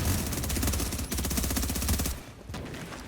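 Rapid shotgun fire in the video game The Division, a dense burst of loud, close blasts in quick succession for about two seconds, then a couple of trailing shots.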